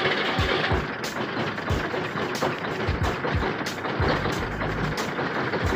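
A Detroit Diesel Series 60 11.1 engine with a hard start, only some cylinders firing, rough and uneven under throttle, close and loud with irregular thumping pulses and a heavy low rumble.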